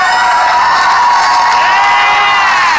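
A big arena crowd at a movie trivia Schmoedown event cheers and whoops loudly and continuously, a dense wall of voices with no pauses throughout.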